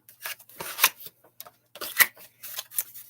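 Repeated bursts of cards being riffled and shuffled, crisp papery rattles in quick clusters with short pauses between, close and fairly loud.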